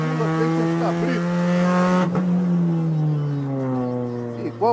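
A Mini Cooper race car on a track, its engine droning steadily in a high pitch, with the tone rising and falling through gear changes and a brief squeal near the end, heard from inside or close by.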